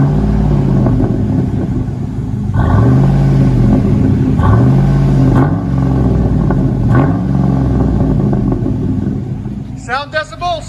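A Chevy/GMC 5.3L V8 revving through an aftermarket exhaust, deep, loud and close, with a low rumbling idle rising into several repeated throttle blips. Voices are audible at the very end.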